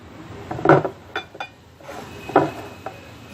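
A glass set down on a glass plate, two or three clear clinks and knocks of glass on glass, close and fairly loud with no talking.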